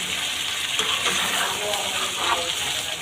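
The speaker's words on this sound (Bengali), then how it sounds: "এখন এর মধ্যে দিয়ে দেবো ঝোল।" Broth gushes into a spicy Bengali chicken curry with ground spices in a hot pan, a steady close wet pour and sizzle with stirring scrapes, while someone talks over it.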